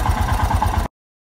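Royal Enfield Himalayan motorcycle with a failed alternator idling close by, a steady low rumble with a regular pulsing throb that cuts off abruptly after under a second.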